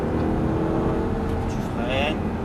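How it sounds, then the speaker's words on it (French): An Audi R8 accelerates on a racetrack during a driving course, its engine a loud, continuous in-cabin roar with rising tone, heard under an instructor's spoken coaching. "vas-y, augmente les gaz au fur et à mesure"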